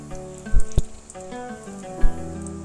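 Breaded chicken bread rolls, dipped in cornflour and maida batter and coated in crumbs, fry in hot oil with a steady close sizzle and a few sharper pops and splashes as pieces go in.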